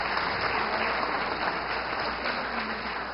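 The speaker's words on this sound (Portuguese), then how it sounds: "Nós agradecemos a mesa e, mais uma vez, uma salva de palmas" An audience at a workplace accident prevention event in Rio de Janeiro applauds a panel, a sustained, even burst of many hands clapping that stays full and loud from start to finish.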